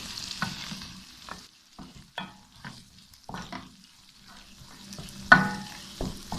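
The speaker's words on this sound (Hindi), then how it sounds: "इसको थोड़ा सा भून लेते हैं। इसके बाद हम इसमें डाल देते हैं हरी मिर्चें कटी हुई" Eggs and green chillies frying in a pan for khageena, a quiet sizzle broken by repeated spatula scrapes and taps at an uneven rhythm, with one sharper clatter, no talk.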